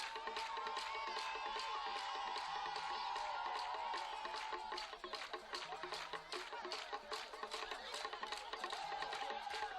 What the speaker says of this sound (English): an electrified, hand-clapping crowd